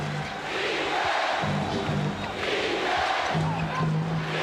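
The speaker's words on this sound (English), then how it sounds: "And again the crowd getting into it." Basketball arena crowd at the 1991 NBA Finals, Lakers versus Bulls, cheering with a sustained roar that swells and ebbs, with commentary voices over the noise.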